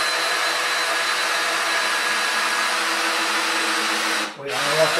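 A power drill runs at a steady, loud whine while boring a hole during a rack build, then cuts off sharply near the end with a short rattle after it.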